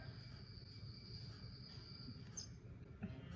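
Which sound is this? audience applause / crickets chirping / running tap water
crickets chirping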